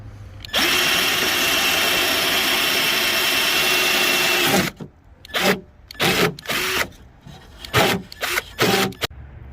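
A power drill bores mounting holes for a rear spoiler on a 1999–2004 Ford Mustang GT, running in one loud, steady whine for about four seconds, then stopping and restarting in a string of short, close bursts.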